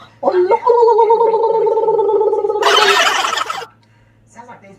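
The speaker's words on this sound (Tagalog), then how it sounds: "Nagalit si Parrot" An angry parrot lets out a loud, warbling, drawn-out squawk that breaks into a harsh, raspy screech, close by, then falls quiet.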